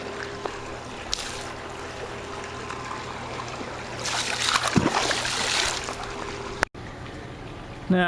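Pool chemical poured into a backyard swimming pool and spread across the water: a steady trickle and splash builds to a fuller pouring rush midway, with a sharp knock shortly after and a quiet watery background throughout.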